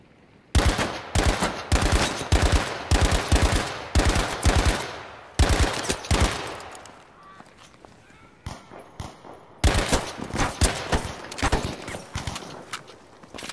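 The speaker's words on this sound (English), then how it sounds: "Someone shooting us on the top of the pillbox, the tower." Automatic gunfire in the World War II shooter Battlefield V, loud close bursts of rapid shots in repeated volleys separated by short pauses, with faint background battle noise between them.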